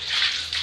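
Water splashes as it is poured over a bathroom surface to rinse off scale cleaner, a short rushing gush that briefly dips before surging again.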